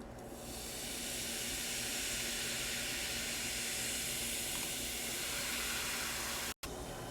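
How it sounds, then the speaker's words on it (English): Baking soda fizzes in vinegar as sodium acetate is made, a loud, steady hiss that rises quickly, holds evenly and then cuts off sharply near the end. "when we pour some of the baking soda into the vinegar, it is going to be fizzing a lot"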